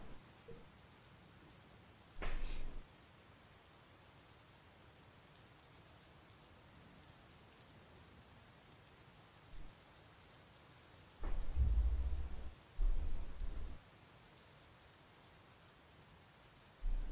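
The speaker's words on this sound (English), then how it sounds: "Is it rain sound? It is, yes." Steady rain falls throughout, with several deep thunder rumbles breaking through, one early and two louder, longer rolls near the end, and no talk.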